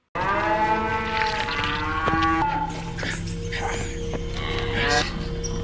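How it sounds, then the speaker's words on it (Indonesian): Several cows moo in long, drawn-out calls close by, with overlapping voices and some background noise. "Di malam harinya, Will mendengar beberapa ekor sapinya melenguh"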